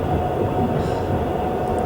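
A passenger train on a railway in Russia, heard from close by as a dense, steady rumble of running wheels and carriage noise, loud and continuous throughout.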